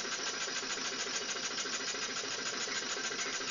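A homemade do-it-yourself steam engine runs continuously, a steady, moderately quiet mechanical chugging with a fast, even pulse throughout, no voices.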